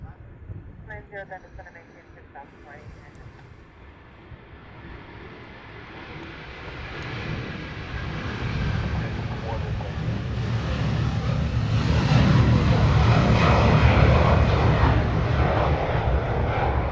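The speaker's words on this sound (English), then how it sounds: "the tanker is lined up. It's a KC-135" A KC-135 tanker lined up on the runway sends out a broad jet engine roar that starts distant and builds steadily louder toward a sustained rumble, with a voice talking over it.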